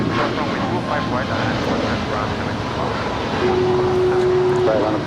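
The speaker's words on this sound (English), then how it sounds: "This departure is Air Canada 557 departing to Vancouver. It's a 737 MAX 8." An Air Canada Boeing 737 MAX 8 departs LAX, its engine roar a steady broadband rumble that swells louder toward the end, with a brief tonal whine appearing late; people talk over it.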